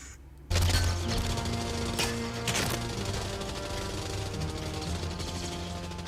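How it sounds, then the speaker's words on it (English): Movie gunfire from the finale of Terminator 2: Judgment Day (1991): dense, sustained bursts of shots and clattering impacts start abruptly after a brief quiet moment and continue loudly under a layered action soundtrack. "Just walking straight through all that gunfire."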